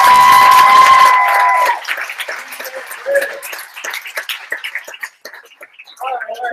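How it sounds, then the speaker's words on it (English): An audience at a public meeting claps and cheers, a loud burst at first that thins into scattered claps and crowd noise, with voices talking over it. "Show of hands and loud applause and cheers."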